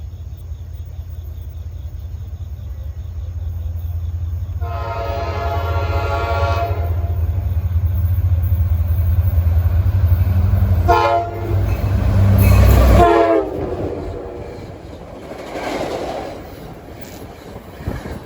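A Port Jervis hotshot freight train rolls past, with a loud rumble building and holding, a long horn blast in the middle, and a second, louder blast near the end before the noise fades away.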